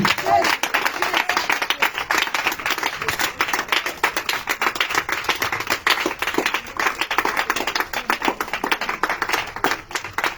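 A congregation at a night prayer and spiritual revival service in Grand-Bassam claps steadily and loudly in fast rhythm, dense handclaps continuing throughout with voices mixed in beneath.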